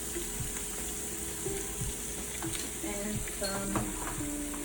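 Shrimp fried rice sizzles steadily in a pan while being stirred, a continuous close frying hiss with scattered clinks and scrapes of the utensil; a voice speaks briefly.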